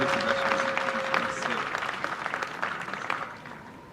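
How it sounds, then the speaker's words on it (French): A crowd applauds a student receiving a diploma at a graduation ceremony in Congo, with sustained clapping that fades toward the end while a voice speaks over it. "Sous vos applaudissements."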